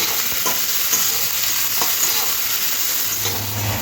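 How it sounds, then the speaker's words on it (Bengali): Sliced onion frying in hot white oil in a pan while making street-style egg devil, giving a loud, unbroken sizzle with faint stirring and no talk. "কেটে রাখা পেঁয়াজটা তেলের মধ্যে দিয়ে দিতে হবে পেঁয়াজটা হালকা নাড়াচাড়া করে একটু হালকা করে ভেজে নিতে হবে"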